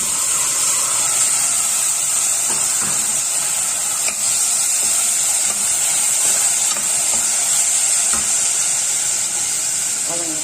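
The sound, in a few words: rice and lentils sautéing with tomatoes in a pan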